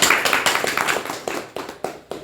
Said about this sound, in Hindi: इसके लिए इन तीनों लोगों के लिए एक बार ज़बरदस्त ताली बजा